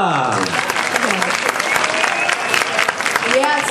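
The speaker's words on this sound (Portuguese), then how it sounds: "Palmas pra ela." Audience applause at a literary talk during the Paraty literary festival (FLIP 2014), a dense, steady wash of many hands clapping throughout, with some voices and whoops mixed in.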